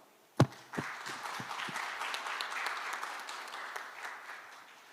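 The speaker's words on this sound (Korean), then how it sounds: "서로 큰 박수로 환영해 주시기" Applause from a forum audience in a roundtable session hall, a burst of clapping that starts sharply and holds steady through the clip, fairly distant, with no talking over it.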